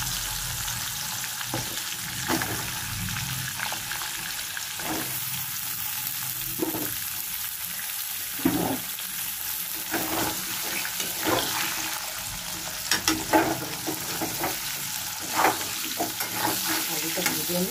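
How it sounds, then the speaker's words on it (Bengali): Potatoes fry in a pan with a constant close sizzle while a utensil scrapes and stirs them every few seconds. No voices are heard. "আলুটা ভেজে নিই"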